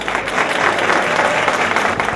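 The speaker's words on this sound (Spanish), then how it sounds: "Lo recibimos con un fuerte aplauso." A loud, dense burst of applause from an audience greeting a speaker, a thick continuous wash of many hands clapping at once, sustained throughout without any voices.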